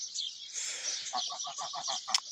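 Geese honk in a quick rhythmic series of calls nearby, over a constant high-pitched hiss of background noise.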